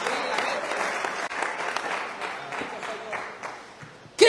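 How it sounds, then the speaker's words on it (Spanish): A church congregation applauds during a sermon, a steady wash of clapping held for about four seconds that swells into a louder burst at the very end. "Un aplauso, alabanza al Señor nuestro Dios."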